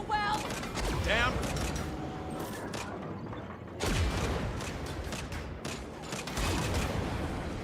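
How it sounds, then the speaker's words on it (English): Tank cannon shots and volleys of gunfire in Saints Row (2022) combat, heavy blasts at about 1 and 4 seconds over dense continuous shooting and mechanical clatter, with a voice speaking over it. "Just straight up buffing these tank shots."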